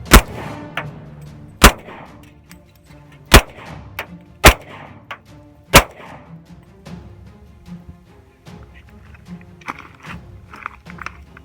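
Canik TP40V2 pistol shooting Winchester white box ammunition at a can outdoors: five sharp, loud gunshots spaced a second or two apart, followed by quieter ambient noise and faint movement.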